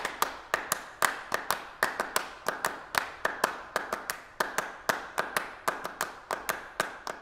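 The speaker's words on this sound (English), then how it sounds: "Clapping music begins with two players repeating a series of arranged claps over 12 beats." Two players perform Steve Reich's Clapping Music, sharp dry handclaps in a fast repeating pattern of interlocking groups, close and even in loudness, with no voices.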